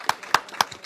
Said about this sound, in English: want to clap for you as well